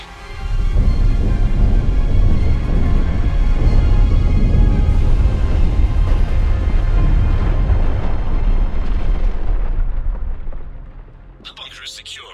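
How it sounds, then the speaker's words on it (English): Neutron bombardment explosions in the Mass Effect 3 From Ashes mission make a loud, sustained, deep roaring rumble for about ten seconds, then fade away into quiet. "Neutron bombardment underway."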